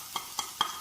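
Tomatoes frying in a pan with curry leaves, turmeric, salt, coriander and cumin, heard as three short stirring scrapes and sizzles spaced a fraction of a second apart, close and fairly quiet.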